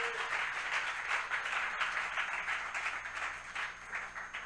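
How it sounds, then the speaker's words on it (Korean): A congregation at an evening revival service claps for Jesus. The applause is a dense, sustained wash of many hands, fairly loud throughout, with a brief sharp knock partway through. "Why don't you clap for Jesus?"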